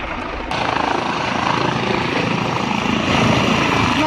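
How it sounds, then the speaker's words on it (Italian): A helicopter's rotor thumps steadily close overhead in Vienna, a loud continuous chopping drone that starts suddenly and builds slightly toward the end. "Un elicottero!"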